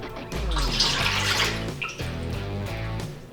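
Two cups of Worcestershire sauce pour into a bowl for a beef jerky marinade, a steady liquid glug and splash lasting a few seconds, close and fairly loud with no talking.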